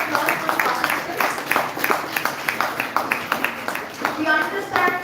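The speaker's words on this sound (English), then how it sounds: "So a huge round of applause for the participants" An audience applauding the participants of a competition round at the Yugma 2025 event, a dense run of claps with irregular peaks, fairly close and steady, fading slightly then swelling again near the end.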